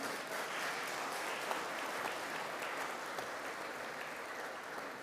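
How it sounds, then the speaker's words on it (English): A graduation ceremony audience applauds in a steady, even wash of clapping that holds for the whole stretch, moderately distant and free of speech. "Come on, turn around, and you give them a clap. Applaud them."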